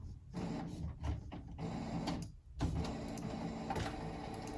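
An office printer running after being switched on, a low mechanical whirring with rhythmic rolling and sliding passes, fairly quiet and close, with no talk.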